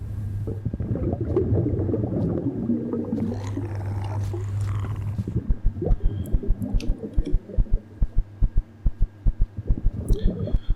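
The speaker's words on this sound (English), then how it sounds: "The little heartbeat you can hear there is because my stamina is down." A low-stamina heartbeat indicator in the Empyrion Galactic Survival video game thumps in a steady, loud double-beat rhythm, taking over after a few seconds of low humming ambience.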